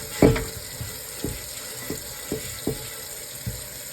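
A cast iron skillet is scrubbed and rinsed under running water, with a steady hiss of flowing water and a series of short scraping and splashing strokes at irregular intervals.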